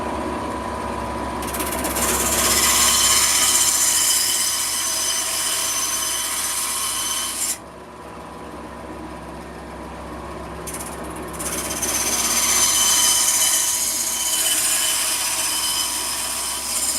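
A bandsaw cutting wood for woodcarving drones steadily at close range in a workshop. The blade noise dips briefly partway through as the cut pauses, then resumes at full loudness with no talk over it.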